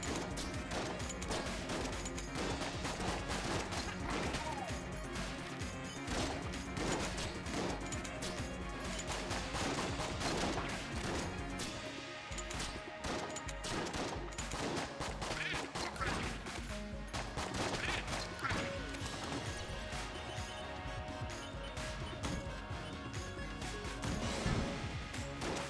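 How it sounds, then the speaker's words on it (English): Gunfire and explosions in the video game Enter the Gungeon make dense, continuous rapid shots and crashing blasts over game music for the whole stretch, loud and busy with no pauses. "that's gonna be a lot of explosions."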